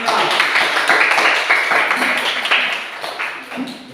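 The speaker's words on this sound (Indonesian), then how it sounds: "sekarang tepuk tangan buat kelompok menyimak" A classroom audience gives a student group a short burst of brisk, dense hand clapping that stays steady and fairly loud, then thins slightly toward the end.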